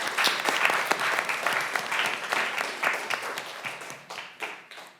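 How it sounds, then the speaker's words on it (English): Audience applause at a student pitch competition, with brisk clapping that is fairly close and thins into scattered individual claps over the last second or two. "So let's give them a round of applause"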